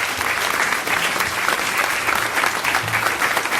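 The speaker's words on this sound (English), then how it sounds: "we want to give Mr. Vandia Stripling a round of applause for his dedicated service" A round of applause fills a board of trustees meeting as members honor a colleague's dedicated service, with dense, steady clapping from a roomful of people sustained at full volume throughout.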